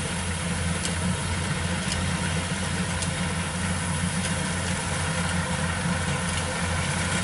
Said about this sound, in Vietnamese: con 95 này nó đang cắt trở lên rồi các bạn ơi.